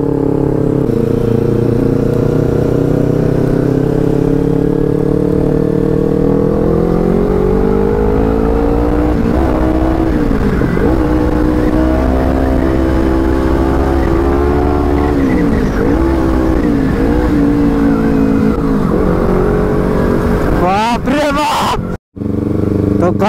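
Two Bajaj motorcycles, a Pulsar NS and a Pulsar 220, ride on a highway from Mumbai toward Pune. Their engine notes drone and rise and fall loudly and continuously as they rev close by, with wind rushing and a brief cutout near the end.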